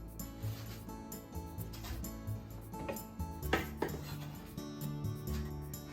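Thin diagonal strips of vegetable for a gyoza hot pot drop into the cooking pot with soft clattering and scraping, a few light knocks against the pot standing out midway.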